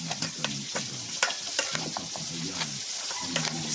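Pork sisig with onion, chili, calamansi and soy sauce being stirred in a hot pan, a steady run of scraping stirs over a constant sizzle, close and fairly loud with no talk.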